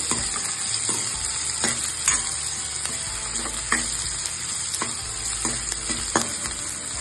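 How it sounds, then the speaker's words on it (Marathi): Chopped onion sautéing over a medium-low flame until pink, with a steady close sizzle and repeated scraping strokes as it is stirred, no speech. "कांदा ही छान गुलाबी होईपर्यंत परतून घ्यायचा मस्त"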